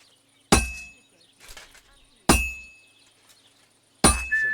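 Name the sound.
hammering a sword while smithing in a video game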